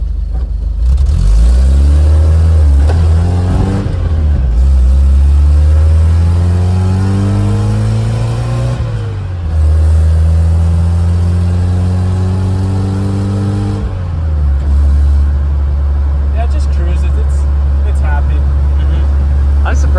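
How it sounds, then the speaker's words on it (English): Engine of a 1977 Datsun 620 pickup while cruising: a loud, close, steady mid-pitched drone whose pitch rises and falls with shifts, heard from inside the cab with people talking over it. "How loud it is. Then again, it's right there. It's not back behind you. Yeah, this is quiet compared to what it used to be."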